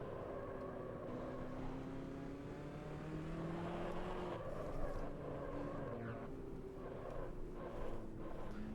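A race car engine in the Automobilista 2 racing game drones with a steady, rich tone that rises and falls in pitch as it accelerates and shifts, heard at moderate level with no talking.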